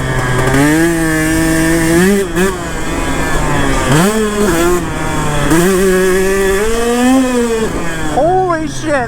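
A KTM 150 SX two-stroke dirt bike, stock apart from a Twin Air filter and stock reeds, revs hard and rides, its loud, close, buzzing engine rising and falling in repeated pitch sweeps through the gears.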